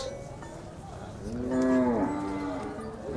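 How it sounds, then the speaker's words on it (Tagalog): A water buffalo on a Philippine farm lets out a long, deep moo that swells in the middle and fades, close by over faint outdoor background noise. "Uy, hiya si Dodong sa kalabaw niya, oh."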